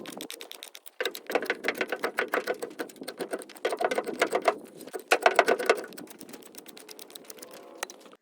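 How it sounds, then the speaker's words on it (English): A budget fixed-blade knife with a 14C28N steel blade feathers wood into fine kindling, making rapid rasping, ticking strokes in repeated bursts of a second or two with short pauses between, close and clear. "But it is gliding right through this wood."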